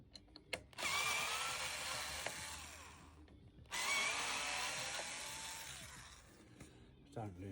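Power drill spinning out screws from a campervan bed frame in a Fiat Ducato, two sustained whirring bursts of about three seconds each, close and loud, with brief clicks between.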